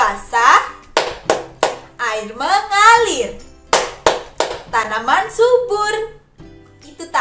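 A rain-themed rhythmic hand-clapping game for children: close, sharp claps fall in patterned bursts between a leader's chanted lines, and the voice and claps alternate throughout.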